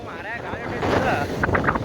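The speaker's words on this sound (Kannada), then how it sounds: "ಗಾಳಿ ಗಿಡಗಳು ಫುಲ್ ಅಡಿಗಾಡತ್ತಾವ" Strong wind rushes through trees in brief, loud gusts, blustering close by while someone talks over it.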